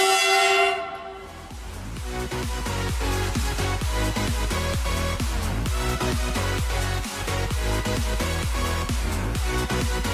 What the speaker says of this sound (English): Let's listen to the horn and see how the train looks.